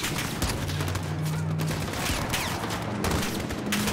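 Dense gunfire in Call of Duty: Modern Warfare, a continuous rattle of rapid shots and bursts layered with game noise, loud and close throughout.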